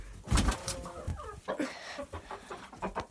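Chickens cluck close by outdoors in a barnyard, a series of soft, irregular clucks and short squawks over light ambient rustle.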